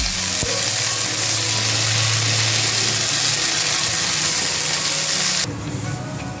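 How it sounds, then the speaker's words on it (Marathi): Green pigeon pea seeds roasting in a pan, a loud continuous hissing sizzle with a brief knock near the start that drops off slightly toward the end, no talking. "दाणे आता छान भाजून घेऊ"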